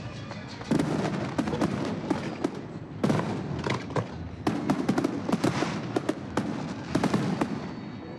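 Fireworks display at the seaside National Park for the third anniversary of Azerbaijan's Victory Day, a steady series of sharp cracks and pops with rolling booms, at moderate distance and without talk.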